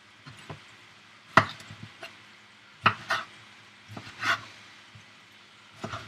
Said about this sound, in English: I'm just going to cut this into cubes.